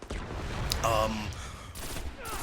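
Pulse rifle gunfire in Destiny PVP, dense rapid bursts of close, loud shots running almost continuously, mixed with game effects.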